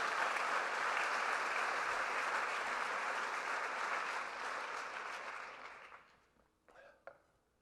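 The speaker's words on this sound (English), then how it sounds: "Give a big round of applause for the folks at Allenby House" Audience applause at a city's State of the City address, sustained and dense for about six seconds before thinning out to a few scattered claps.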